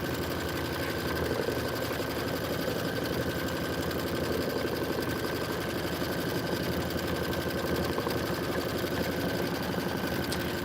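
A sewing machine stitching a quilt border runs in a continuous, even whirring hum with a fast regular stitch rhythm, steady and moderately close with no talk.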